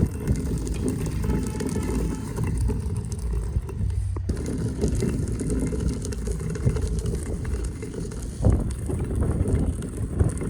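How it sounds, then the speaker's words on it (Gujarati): Steady wind buffeting the microphone on a rooftop terrace with a low, continuous rumble throughout, briefly dropping and then gusting again near the end. "પવન એ બહુ મસ્ત મજાનો છે હો."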